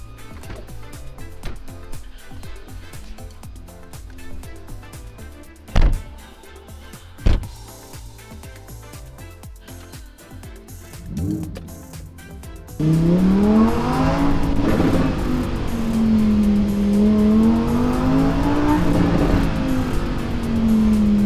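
A car is driven, first with quiet cabin sounds and a few sharp knocks, then a louder engine that rises and falls in pitch as it accelerates and shifts, steady and close.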